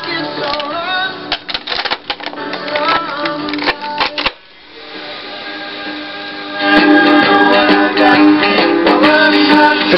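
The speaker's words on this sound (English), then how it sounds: "And now let's try it with an 8-track." A 1979 Ford Quadrasonic car 8-track player plays a tape, giving tinny, band-limited music with clattering mechanical ticks, a brief drop midway, then louder steady playback.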